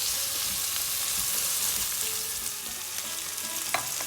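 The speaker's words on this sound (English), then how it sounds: "So I will just stir fry it for 2 minutes" Baby snow peas stir-fried in a pan give a steady, close sizzle throughout, with one sharp clink of a utensil near the end.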